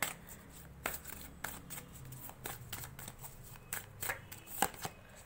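Tarot cards are shuffled and drawn close up at low volume, a run of soft, irregular riffling flicks and slaps with brief pauses between them.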